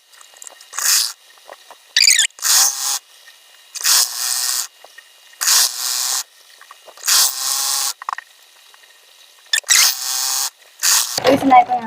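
A sewing machine stitches the yoke of an anarkali gown made from a reused saree, running in about nine short bursts of steady whirring with brief pauses between them, close and fairly loud, with no talking.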